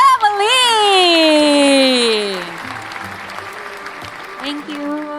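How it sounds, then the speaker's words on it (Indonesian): Audience applause in a hall, clapping under a loud child's warbling, rising cry and crowd voices for a new Konicare brand ambassador, then fading into softer chatter and scattered sounds. "Beri tepuk tangan yang meriah untuk new brand ambassador Konicare, Denny Sumargo Family."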